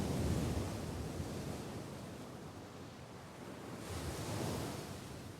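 Sea waves breaking on a shore, a steady broadband rush of surf that swells at the start and again near the end, with wind noise mixed in and no voices.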